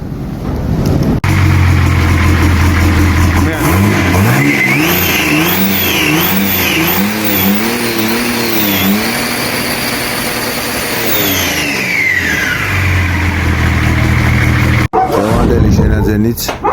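A Nissan Patrol with an M57 engine cranks and starts, then revs repeatedly, the engine note rising and falling loud and close before it settles back to a steady idle.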